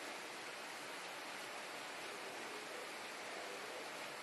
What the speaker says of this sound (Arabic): شوف المطر